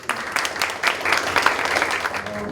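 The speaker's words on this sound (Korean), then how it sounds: "좀 뜨거운 박수로 환영해 주시면 감사하겠습니다" Audience at a Korean policy forum on social venture support ordinances applauds to welcome a speaker, a lively burst of clapping with distinct individual claps standing out, moderately loud and sustained with no talk.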